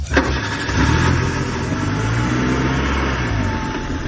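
A car engine revs hard and then settles into a steady roar as the vehicle pulls away, loud and close.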